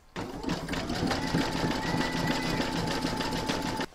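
An embroidery machine satin-stitching around the heel of an in-the-hoop vintage witch boot, a steady fast mechanical chatter of needle strokes running continuously from start to stop with no talk.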